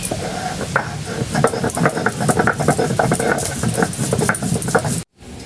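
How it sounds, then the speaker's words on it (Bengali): Spice paste being ground by hand for a bele greens dish: a close, busy patter of scraping and knocking strokes in quick succession, continuing for several seconds before a sudden stop and a quieter tail. "এবার আমি বাটা মশলাটা বেটে নেব।"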